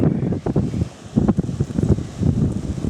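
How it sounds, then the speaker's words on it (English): Outdoor wind buffets the microphone in uneven low gusts, rising and dropping over a few seconds with no other sound. "Let me turn around so I can get out of the wind."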